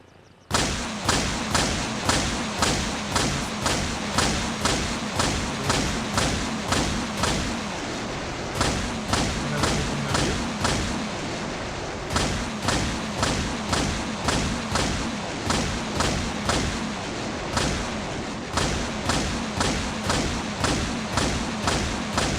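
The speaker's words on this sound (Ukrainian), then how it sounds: "це я перший раз бачу, як взагалі стріляють з града" Grad rocket artillery fires in the video game Arma Reforger, a long relentless salvo of booming thuds repeating at a steady, rapid pace, loud and close throughout.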